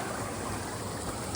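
A creek flowing at a hiking track crossing in Alpine National Park on the Mt Cobbler walk in winter, a steady close rushing babble of water filling the whole clip without voices.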